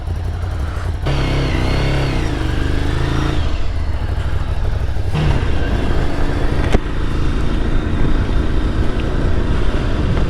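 A Ducati Scrambler Desert Sled 800 motorcycle being ridden, the engine note rising and falling through gear changes over steady wind and road roar, loud and close throughout with no talking.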